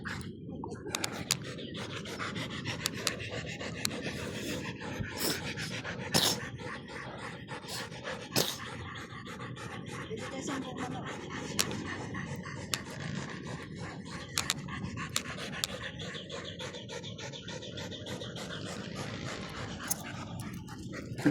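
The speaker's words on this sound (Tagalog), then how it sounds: "Mga hingal sila ngayon, eh." Dogs pant steadily and rhythmically up close for a long stretch, with occasional scraping and rubbing noises mixed in.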